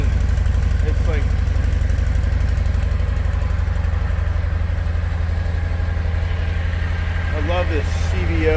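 A Harley-Davidson CVO Insignia motorcycle idles with a steady, loud low-pitched pulsing throb close by, while someone talks briefly over it.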